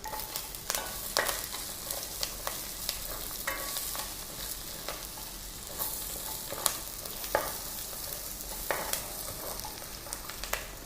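Onions, curry leaves and garlic fry in a pan over mustard seeds and urad dal, with a steady sizzle broken by repeated scraping stirs throughout, close and fairly loud, with no talk.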